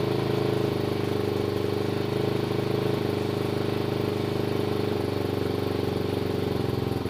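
A 150cc scooter engine warms up on its enrichener, then idles. The close, steady putter carries a fast, even pulse throughout, with slight shifts in speed and no talking.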